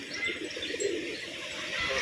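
Tumbler pigeons kept in a home loft give off soft, steady cooing and small chirps for a couple of seconds, close by and fairly continuous.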